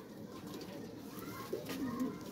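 Pigeons cooing softly in a loft, a low faint rolling coo rising toward the end over steady background hum.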